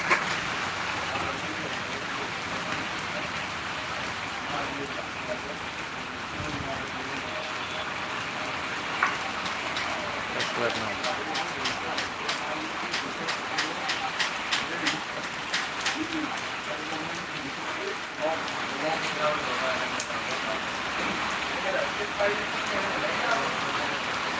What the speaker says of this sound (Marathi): देख सकते हैं आप यहाँ पर बहुत ही अच्छे से बरसात हो रही है